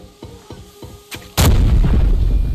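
Several soft thumps sound, then a loud, close grenade explosion bursts into a long rumbling roar in the military shooter game Arena Breakout.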